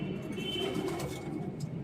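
Pigeons at a keeper's house make soft, repeated cooing, fairly quiet and close, with no voices.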